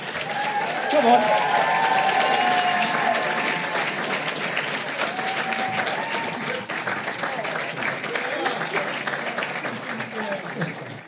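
Audience applause with cheering at an awards event, as Elle Fanning is honoured with the Vanguard Award. Loud, dense clapping and crowd noise run steadily for about eleven seconds and taper slightly toward the end.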